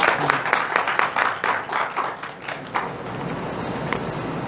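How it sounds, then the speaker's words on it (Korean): A church congregation claps to welcome a visiting member during a Korean-language worship service, a dense burst of many hands that is loud at first and then thins and fades over a few seconds. "환영의 박수로."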